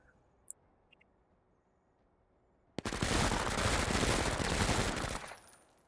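A dense burst of automatic gunfire from an SMG squad in the turn-based tactics game Menace starts abruptly after near silence and roars continuously for about two and a half seconds before tailing off, loud and close.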